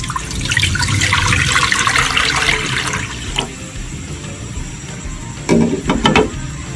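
Tap water pours steadily into a cooking pot for a Korean odeng soup, a loud rushing stream that eases off, followed by a few clinks near the end.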